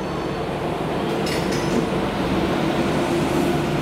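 The Puri to Sealdah Duronto Express rumbles steadily at a railway station, with a loud, continuous low roar of rolling wagons and faint wheel squeal.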